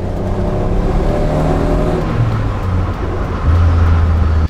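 Taxi car engine revving through a loud exhaust, a deep droning roar that climbs and settles, then swells again louder near the end, close and unaccompanied by talk.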